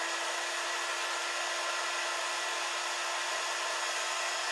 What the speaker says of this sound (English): This is our quick dry tool.